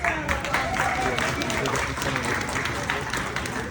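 A crowd at an LGBTQ wedding expo at the Liberty House in Jersey City applauds Danielle, with dense, sustained clapping that fills the room for several seconds.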